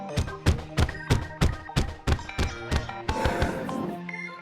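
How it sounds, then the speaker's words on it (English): Terraria Clicker Class mod gameplay with the Umbral Clicker's Shadow Lash ability: rapid, evenly spaced thumping clicks about three per second, ending in a denser, crackling burst of game effects. "now we have the Umbral Clicker with its ability Shadow Lash."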